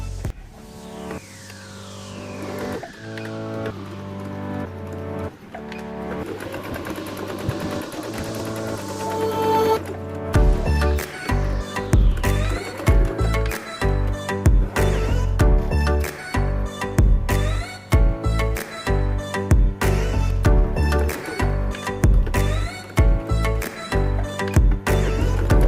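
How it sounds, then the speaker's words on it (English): A sewing machine stitches the sides of fabric for an oversized hair bow, running in quick, rhythmic bursts through the second half. Background music plays throughout, and no voice is heard. "We will stitch the sides."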